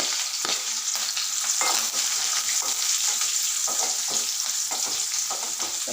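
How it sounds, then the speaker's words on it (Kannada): Crushed onion and garlic fry in a pan with cumin, giving a loud, steady sizzle broken by repeated scraping stirs, with no talking. "ಬೆಳ್ಳುಳ್ಳಿನ ಹಾಕ್ಕೊಂಡು ಫ್ರೈ ಮಾಡ್ಕೋಬೇಕು"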